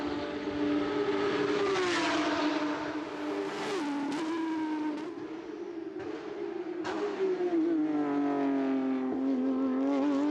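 Race cars at Interlagos circuit during a 500-kilometre qualifying session, engines roaring continuously with rising and falling pitch as they pass, loud and close, with a Porsche among them.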